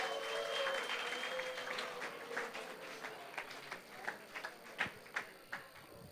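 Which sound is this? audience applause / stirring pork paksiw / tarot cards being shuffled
audience applause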